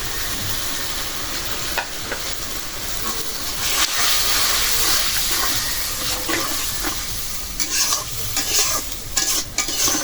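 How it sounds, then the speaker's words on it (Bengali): Spice paste with coriander powder and green chilies is sautéed in a hot pan, a loud continuous sizzle and steamy hiss broken by repeated scraping stirs of the spatula, close up and without talk. "মশলা ভালো করে কষাই নিলাম"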